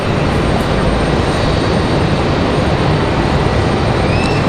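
Southwest airliner at Raleigh-Durham airport, a loud continuous roar of jet engines close by, steady broadband rumble throughout with no talk.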